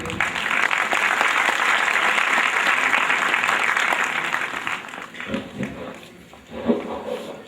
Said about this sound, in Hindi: कृपया तालियां बजाते रहिए।